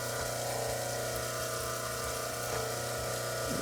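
Water runs steadily over a rock cutting machine, a constant close hiss and gush over a low mechanical hum, unchanging throughout.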